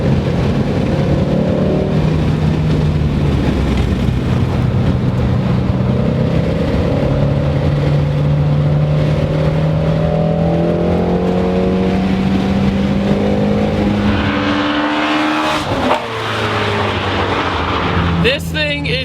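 A Ford Shelby GT350 Mustang driven hard on a race track, its engine a loud, continuous roar rising and falling through gear changes, heard from inside the car with someone talking over it.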